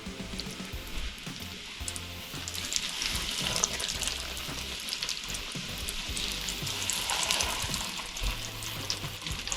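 Pieces of Atlantic stingray frying in hot oil, a steady broad sizzle and crackle that swells and fades slightly throughout, close and continuous with no talking.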